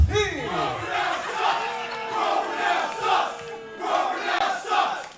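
A wrestling crowd at a Monster Factory independent show roars and jeers at a wrestler, with loud, swelling waves of shouting and booing that rise and fall.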